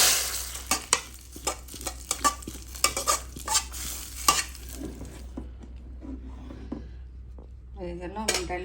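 A dal tempering with nuts sizzles in a pan while a spoon scrapes and clinks against the metal in irregular strokes, then the sound fades to near quiet with a brief clatter at the end.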